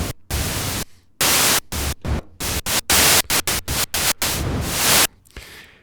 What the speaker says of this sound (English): just plain static sound that you get from white noise